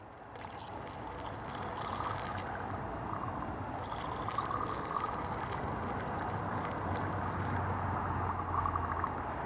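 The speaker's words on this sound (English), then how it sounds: "And I'm gonna pour 1 last liter." Gasoline poured into the fuel tank of a Piaggio Liberty scooter, a steady faint trickling and gurgling of liquid running continuously throughout, with no talk.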